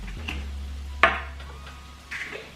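Mushrooms frying in a pan for vegan pasta, a low steady sizzle broken by a sharp utensil scrape and clatter of stirring, close with a hum underneath and no talk.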